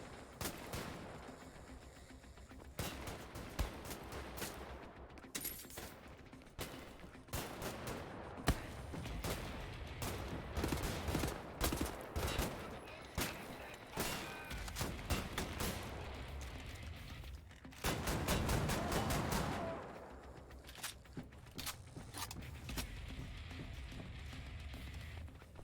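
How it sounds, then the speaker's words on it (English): Rapid bursts of gunfire in the shooter Wolfenstein during a prison break-in, dense clattering volleys that come in waves, with running footsteps and short pauses between the shots. "Who is shooting at me?"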